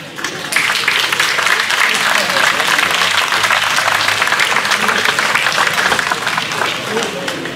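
A festival crowd gives loud, sustained applause for a folk cantoria singer and guitarist taking the stage at the Festas da Praia, a dense wash of clapping running steadily for several seconds with a faint murmur of voices underneath.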